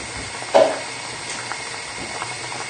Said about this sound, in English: rice should be boiling away happily now